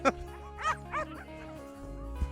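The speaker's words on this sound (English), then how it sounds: "these guys here are a freight pulling dog" Freight-pulling sled dogs bark and yip in short excited bursts at a snowy alpine setting, a few close barks with whimpering between them over a low background rumble.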